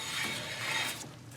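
A Ford F-150 4WD IWE hub actuator is drawn in by vacuum from a hand pump, giving a short, close mechanical ratcheting and clicking burst that fades toward the end, with no talking.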